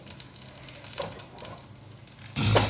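Hot tempering poured into cooked dal with coconut gives a sudden loud sizzle near the end, after a quieter stretch of faint kitchen sounds.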